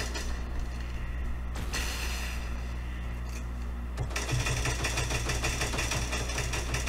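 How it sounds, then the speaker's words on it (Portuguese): A motorcycle engine in the video game Cyber Hunter hums low and steady, with a brief thump, then kicks into a rapid, chattering rev that carries to the end at moderate loudness. "Ele pegou a moto."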